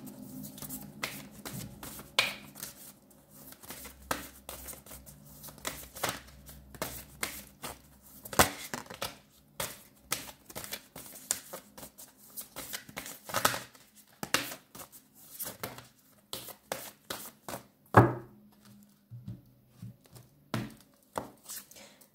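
Close-up tarot cards being shuffled and drawn, with quick riffling bursts, soft slaps and flicks of cards coming in irregular clusters at close range over a quiet background, with no one speaking.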